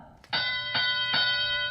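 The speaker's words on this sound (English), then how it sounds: "Bell sounds to begin the 2-minute driver control period once again" An electronic bell rings three quick repeated tones, ringing loud and steady, to start the two-minute driver control period of a robotics league match in an arena.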